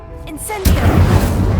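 Incendio fire spell cast in Hogwarts Legacy, a single loud booming burst that flares up abruptly and roars on as a dense, rumbling fiery rush.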